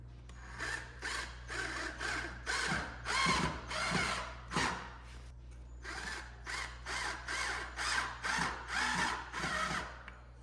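A power drill drives screws into a wooden frame for a faux plant wall, its motor whirring in repeated short bursts with brief pauses between them, close and clear.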